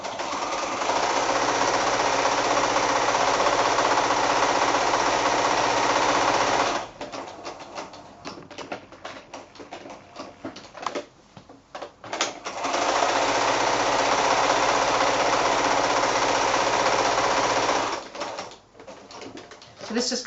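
A sewing machine stitches around the edge of a pre-printed cloth panel for a child's book, roughly a quarter inch in. It runs loud and steady in two long bursts with a quieter pause between them, and nobody speaks.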